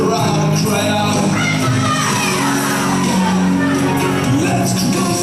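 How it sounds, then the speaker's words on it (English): A crowd cries out in an Easter drama production, a loud, dense wall of shouting and yelling voices that holds steady for about five seconds. "Then I heard a crowd cry out"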